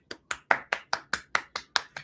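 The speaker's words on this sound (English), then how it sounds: "that deserves a golf clap" Ten soft, evenly spaced hand claps in a measured golf-clap rhythm, each a crisp, close, isolated slap with brief silence between.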